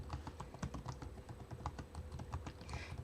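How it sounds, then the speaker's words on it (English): Fast, steady typing on a computer keyboard, close up and fairly quiet, with irregular clusters of clicks and no voices. "I'm just typing it in."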